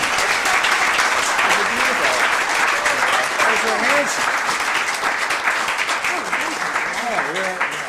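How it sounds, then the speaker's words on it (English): A round of applause fills a city council meeting, many hands clapping steadily for several seconds at close range while a voice speaks over the clapping, which tapers slightly near the end. "please join me for a round of applause again for the city"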